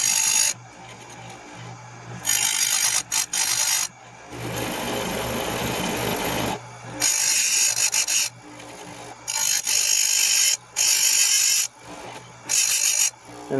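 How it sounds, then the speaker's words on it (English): A small rotary grinder sharpens a tooth on a Dolmar 7300 chainsaw chain, giving several short bursts of bright, rasping grinding separated by brief pauses, close and loud with no talking. "moving the grinder into the tooth and just grinding ever so slight amount I need off of it to sharpen it."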